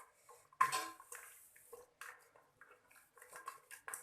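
Clinks and scrapes of a spoon against a metal pot while ingredients for mutton or chicken shami are stirred together, close and intermittent with quiet gaps.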